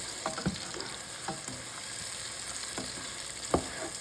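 Food sautéing in a pan gives a steady, close sizzle, with a few sharp stirring clacks scattered through it and no voices.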